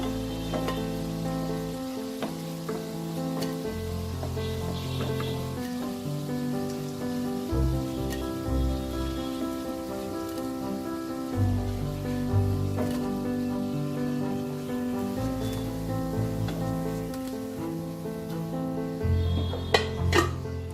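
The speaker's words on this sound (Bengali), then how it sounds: "এবার এই পিঠটা আমি ভেজে নেব।" Continuous bubbling hiss of raw jackfruit koftas deep frying in oil, fairly loud and steady, with occasional clinks and scrapes of a utensil; no talking.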